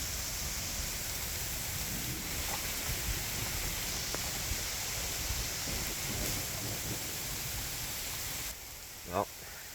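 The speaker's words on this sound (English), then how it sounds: "I'm sure you can hear the thunder." Heavy rain pours steadily under big fir trees in the woods during a thunderstorm, a dense constant hiss; thunder is not clearly distinct, and a brief knock sounds near the end.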